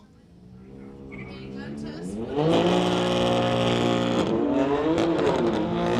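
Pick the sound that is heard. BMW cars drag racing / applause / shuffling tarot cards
BMW cars drag racing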